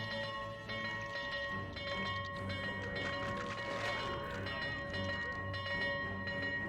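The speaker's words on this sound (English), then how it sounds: "Is the bell still going," A bell rings repeatedly in the video game Sea Salt, sustained metallic tones layered over eerie ambient game sound, fairly quiet and with no voices.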